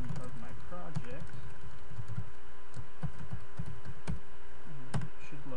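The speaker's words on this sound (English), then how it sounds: "I'll just type in the name of my project" Typing on a computer keyboard in a MATLAB session, entering a project name: a run of close, light key taps with irregular spacing and a few sharper strokes against a steady low room hum.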